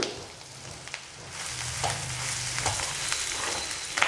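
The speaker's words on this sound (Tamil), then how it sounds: "நல்லா வதங்கிருச்சு வெங்காயம்" Onions sauté in a pan for illam dosai chutney, a continuous close sizzle with occasional stirring scrapes and light crackles, growing slightly fuller midway, no talking.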